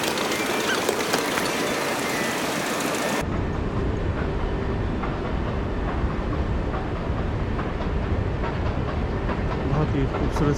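A train rumbles and clatters into a station at Disneyland Paris, a loud, continuous rolling roar close by, shifting into a heavier, lower rumble partway through as the cars pass and slow.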